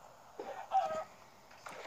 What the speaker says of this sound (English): Stupid chicken messing on our land.